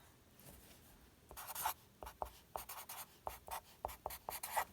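Faint, close scratches of a pen or pencil writing an equation by hand, coming in short bursts of strokes over a quiet background, with no speech.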